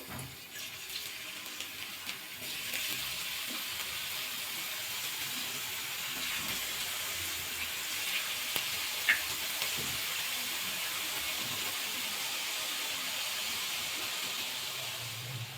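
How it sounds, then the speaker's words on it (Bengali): Potato slices fry in hot oil for chips, a steady, even sizzling hiss that runs without a break at moderate loudness, with no talking. "আবার তেলের মধ্যে আলুগুলো দিয়ে দেবো।"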